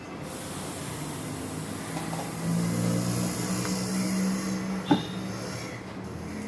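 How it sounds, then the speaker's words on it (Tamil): Mustard seeds and a pinch of fenugreek splutter in hot oil, giving a steady close hiss broken by one sharp pop near the end. "கடுகு நல்லா பொரியட்டும்"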